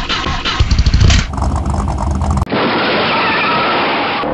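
Stop-motion getaway car cranks with a rough sputtering burst, a short pause, then catches into a steady, loud, broad engine rumble that holds evenly to the end.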